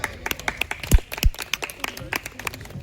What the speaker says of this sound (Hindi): Please put your hands together to welcome Priyanka Sharma on stage.